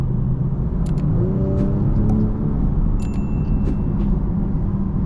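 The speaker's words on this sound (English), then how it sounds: "It's still a powerful engine, an amazing sounding exhaust system." A 2023 BMW M240i's engine and exhaust hum steadily from inside the cabin while driving, a constant low rumble with faint clicks and chimes, no voices.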